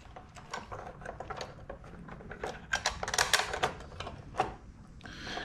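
Small metal hardware being fitted on a Harley-Davidson quarter fairing: bolt, washer and lock nut clicking and rattling in quick irregular taps and scrapes, close and moderately loud, with no talk.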